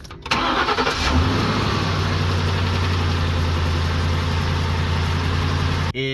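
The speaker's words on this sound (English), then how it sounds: "let's go ahead and start the vehicle" Car engine cranked with a Kepeak jump starter: a short starter whir catches within a second, then the engine settles into a steady, close idle with a constant hum until it cuts off at the end.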